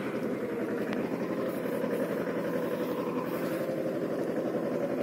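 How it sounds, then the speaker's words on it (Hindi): Mahindra Jivo 225 DI mini tractor hauling a heavy 80-quintal sugarcane cart through a wet, muddy field: a steady, loud low engine drone with a continuous throb, constant throughout with no talk. "मिनी ट्रैक्टर महिंद्रा 225 जीवो, और 80 क्विंटल का आड़ा है।"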